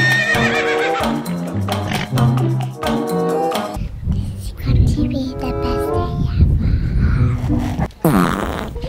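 A horse whinnies several times, loud and close, with hooves clip-clopping in between and a short high squeal near the end, during a horse riding lesson.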